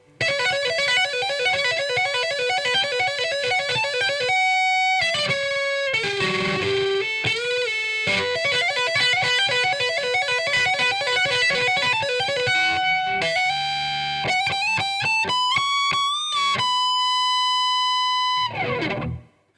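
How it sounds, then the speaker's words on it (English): Notes tapped on the neck humbucker of a Gibson SG run through a Dark Triad distortion pedal. Fast, heavily distorted runs and arpeggios play with brief gaps, then end on a long sustained note that cuts off abruptly. No talking. "I'm going to select the neck humbucker here on my SG, and I'm going to do a little bit of tapping."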